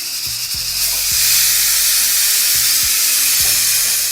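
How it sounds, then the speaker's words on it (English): Pressure cooker venting after cooking lamb mandi, a loud, steady broadband hiss of escaping steam, close up, with a few faint low clicks and rattles underneath. "I'm just gonna turn off the heat and release all the pressure."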